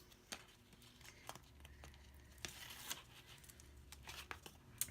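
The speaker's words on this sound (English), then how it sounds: "So I'm going to take the tape off." Tape peeled off a paper mini album, a run of quiet tearing and crinkling rips with sharp spikes, close and fairly faint, with no talking.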